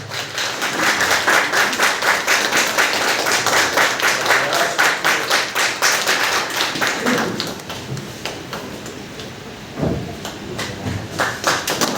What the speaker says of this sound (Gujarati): મિત્રો જબરદસ્ત તાળી સાથે વેલકમ કરીશું ફતેહસિંહ વાઘેલા